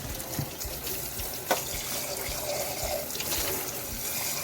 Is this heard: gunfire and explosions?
no